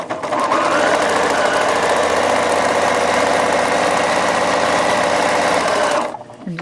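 A sewing machine stitches a straight seam through fabric with the presser foot down, a steady, loud mechanical whir running without pause for about six seconds before it stops abruptly.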